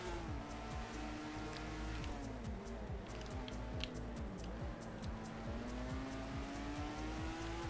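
Race cars in an F1 racing video game roar past with rising and falling engine whines and short tire squeals, loud and continuous, several cars overlapping in quick succession.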